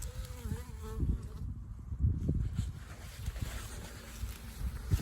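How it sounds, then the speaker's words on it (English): Bees fly around beehives on a windy day, a soft buzzing drone close to the microphone, mixed with wind rumble. "there's the odd bee flying"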